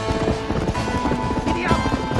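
A horse gallops at full speed in Red Dead Redemption, with rapid close hoofbeats drumming steadily and a brief whinny near the end.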